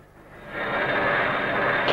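An airplane roars overhead, its broad engine rush swelling quickly and holding loud and steady.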